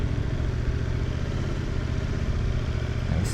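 Motorcycle engine running steadily at low throttle through a slow right turn during parking lot practice, a constant close rumble with no talk over it.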